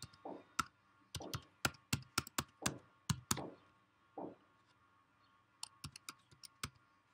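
Close clicks and clacks of computer keyboard keys typed in short irregular bursts while entering a user ID and password for online banking, with a pause before a final lighter flurry.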